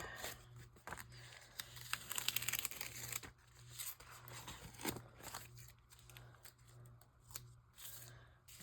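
Paper rustles, crinkles and tears as hands rummage through a big paper envelope of junk-journal swap items, fairly close, with a busier burst of crumpling in the middle and softer handling toward the end.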